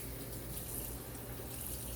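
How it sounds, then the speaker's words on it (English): Running water steadily rinses stone slurry off a honing stone, a continuous close splashing wash with no talk over it. "Give it a good rinse on half the stone"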